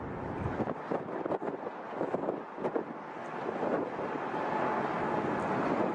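Jet airliner climbing away after takeoff, likely a lightly loaded repatriation flight, a steady broad roar that grows slightly louder toward the end with wind buffeting the microphone.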